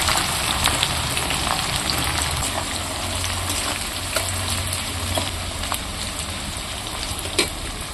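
Sliced onions frying in very hot oil for a mutton curry, a loud, steady sizzle and crackle that continues throughout with occasional pops and no talking.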